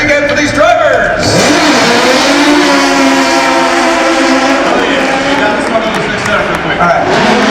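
Stunt cars revving at the Lights, Motors, Action! Extreme Stunt Show at Disney-MGM Studios, loud engine roars rising and falling under a voice talking over a crowd.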